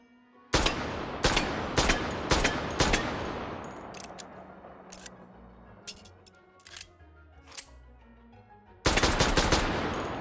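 AMT Automag pistol fired in a VR shooting game: a quick string of loud sharp shots with ringing decay, a quieter stretch of clicks and handling, then another burst of rapid fire.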